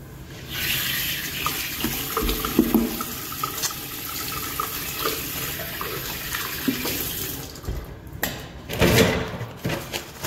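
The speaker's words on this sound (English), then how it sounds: "As fast as possible, you wash your hands." Hands being washed under a running tap in an empty public restroom: a steady close rush of water with splashing and scrubbing bursts, then a few knocks and clatters as the water stops near the end.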